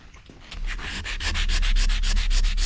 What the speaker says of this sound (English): Hit this with the sandpaper.